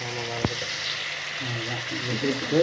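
Steady sizzling of chicken with onions and tomatoes sautéing in a pan, with a brief clunk near the start and occasional soft stirring sounds.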